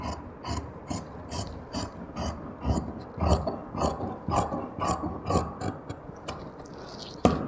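Scissors cut through plain blouse fabric along a marked back piece, a run of crisp repeated snips and rasping blade strokes in a steady rhythm, close and fairly quiet with no talking.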